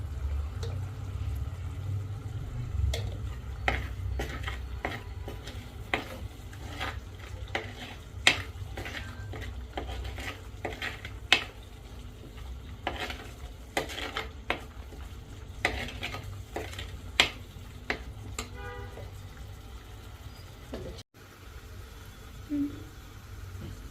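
Masala frying in oil inside a clay pot for a small-fish pulusu, a low steady sizzle under frequent close scraping and tapping as it is stirred, with a few sharper knocks against the pot's rim.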